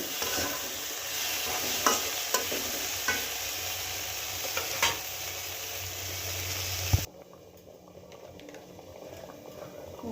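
Ingredients with tomato stir-fry in a pan, a steady sizzle broken by regular spatula taps and scrapes, then dropping abruptly to a quieter low bubbling.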